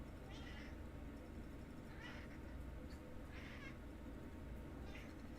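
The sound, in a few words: cat meowing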